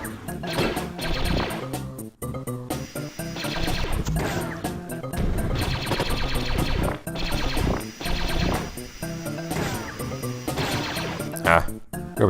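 Blaster fire in the Lilo & Stitch 2: Hämsterviel Havoc video game, with repeated crashing and rapid shooting effects over busy game music, while someone talks over it.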